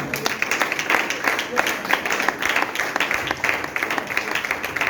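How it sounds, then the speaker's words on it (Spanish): Congregation clapping during a church service, a steady wash of many hands applauding at moderate loudness for several seconds with no speech over it. "¿Cuántos le pueden dar un aplauso a Jesús?"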